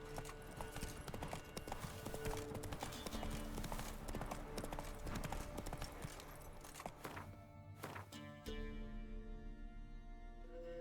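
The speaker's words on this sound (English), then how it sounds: "Run, Roach." Hooves of a horse in The Witcher 3 clip-clop in a fast, steady rhythm, loud and continuous under game ambience and music, with a brief whinny and a lull before the beat resumes.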